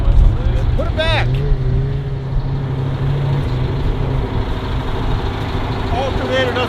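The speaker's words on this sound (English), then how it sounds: "Alternator doesn't charge on idle, so I have to rev it." A vehicle engine on a snowy Utah trip revs up from idle to keep its weak alternator charging, a steady low drone that rises and holds near, with brief voices over it.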